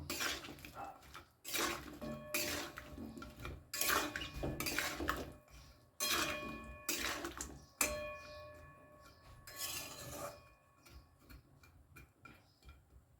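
Mustard and poppy seed paste being stirred into a cooking pan, with repeated scraping clinks of a utensil against the metal in an uneven rhythm, close and fairly loud, no voices.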